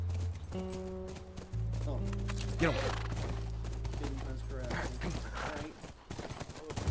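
Horse hooves clip-clop in The Last of Us video game at moderate distance, mixed with game music and thuds, while players talk over it.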